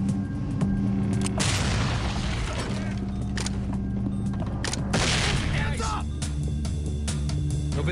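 Flashbang grenade detonating in the SWAT video game Special Weapons and Tactics, a sharp loud blast with ringing noise, followed by a second burst amid gunfire and radio voices.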